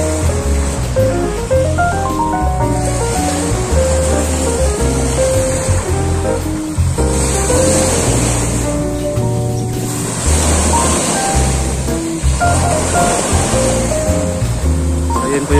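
Artificial waterfalls pour beside the sea at Khor Fakkan by a beach amphitheatre, a loud continuous rushing roar mixed with surf, while music plays throughout.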